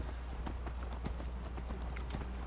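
Horse hooves clip-clop in a steady, brisk rhythm in the video game Skyrim, close and fairly quiet over a low background hum.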